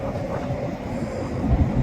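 A Mark 5 train rolls into a station on the southbound side, a steady rumbling rail noise with low wheel thumps that swell louder near the end, continuous and fairly close.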